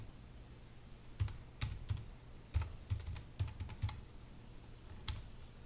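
Keys on a computer keyboard are tapped in a short irregular burst, a dozen or so clicks close and fairly quiet, with a final lone keystroke after a pause and no talking.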